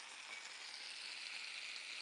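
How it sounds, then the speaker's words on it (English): Food sizzles in a hot pan, a soft, steady crackling hiss with no voices, faint and continuous. "You hear it sizzling?"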